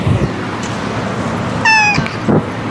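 A single short cat meow sounds near the middle, bright and close, amid quiet room noise and a few soft thumps.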